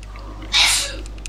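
A single short, sharp sneeze bursts out once against a low steady hum, heard mid-distance over a voice chat during an online game.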